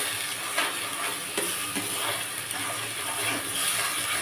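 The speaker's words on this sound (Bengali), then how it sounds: "এবার সেটা নাড়াচাড়া করে দিলাম।" Jackfruit curry masala being stirred in a pan, a dense hissing sizzle with scattered soft scrapes and taps, steady and close throughout.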